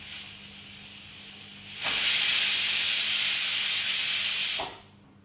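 A pressure cooker on high flame lets off a loud, steady hiss of steam that starts suddenly, holds for about three seconds, then cuts off.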